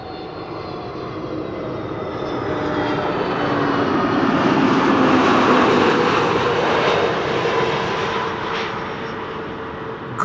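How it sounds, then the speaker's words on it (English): An Airbus A320neo inbound from Edinburgh, Scotland, roars steadily as it passes, swelling to a peak midway and easing off, a continuous broad jet rumble with a faint whine on top and no one talking. "Goodjob is an A320 Neo returning from Edinburgh in Scotland"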